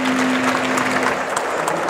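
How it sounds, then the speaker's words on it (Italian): Steady, dense applause from an audience fills the whole short stretch without letting up, with no voices above it. "Ci vuole questo applauso."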